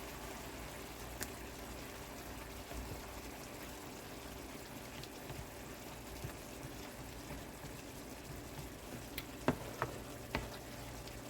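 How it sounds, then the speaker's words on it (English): Faint, soft sizzle of butter melting into a meatball mixture, a quiet continuous crackle with a few small pops and clicks near the end. "And now, I'm going to go ahead and start adding some butter"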